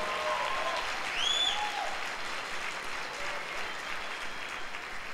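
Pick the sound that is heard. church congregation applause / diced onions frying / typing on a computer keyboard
church congregation applause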